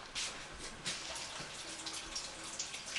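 Items rinsed under a running kitchen tap, a steady faint hiss of flowing water with small splashes and clatters, close and quiet throughout.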